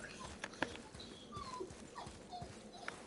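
Wolf pups in the God of War video game whimper and yip in soft, scattered bursts against a quiet background, with faint rustling between the cries.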